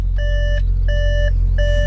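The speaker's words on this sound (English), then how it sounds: "It's telling me to close the door." A car's door-open warning: three evenly spaced electronic chimes, each a two-tone beep, sound over the low hum of an idling engine.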